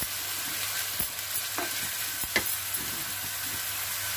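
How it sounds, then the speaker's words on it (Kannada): Cumin seeds dropped into ground onion paste frying in hot oil for onion kodubale, giving a steady close sizzle with faint stirring and a few small clicks and taps, no voices. "ಈಗ ಜೀರಿಗೆ ಹಾಕ್ತಾ ಇದ್ದೀನಿ"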